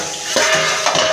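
Yardlong beans are stirred in a pan, a spoon scraping and clinking against the metal in two quick strokes over a soft background hiss.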